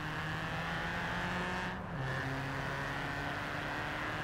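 A car engine in the racing game Forza Horizon 4 drones at a steady high pitch, briefly dipping then settling at a lower steady tone, continuous and unbroken.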